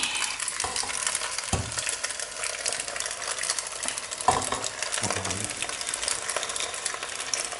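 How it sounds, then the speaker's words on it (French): Penne in sauce stirred around a pan, a steady wet scraping and sizzling texture with a few sharper knocks of the utensil against the pan, close and fairly loud throughout. "Remuez un peu dans les pâtes pour pas que ça n'attache au fond."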